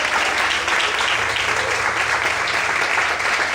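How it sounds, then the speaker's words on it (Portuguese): A church congregation applauds during an evening worship service, sustained, dense clapping that holds steady and fairly loud throughout. "Você pode aplaudir a Deus nessa noite?"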